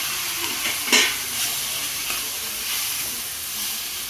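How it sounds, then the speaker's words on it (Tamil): Chopped tomatoes sautéing in a pan for Tamil-style tomato kurma, a steady soft sizzle and hiss with a brief stirring scrape near the start, close by and with no talking. "இந்த அளவுக்கு வணங்கினதுக்கப்புறம் இந்த கட் பண்ணி வச்ச தக்காளியை உள்ளே ஆட் பண்ணிக்கலாம்."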